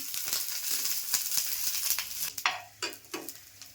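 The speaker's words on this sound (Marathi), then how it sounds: "लसूण लाल होईपर्यंत, मिरच्या वगैरे लाल होईपर्यंत भाजून घ्यायचा" Garlic, chillies and tomatoes sizzling and frying in a pan, a steady close crackle broken by several sharp stirring scrapes near the end, with no talk.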